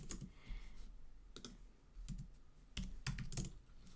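Typing on a computer keyboard: short bursts of quiet clicking keystrokes in irregular clusters, close and faint, with no voice.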